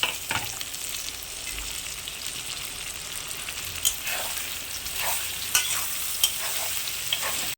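Prawns stir-frying with onion, curry leaves and green chillies in a pan, a continuous sizzle and hiss broken by scraping and clinking stirs, close up with no talking.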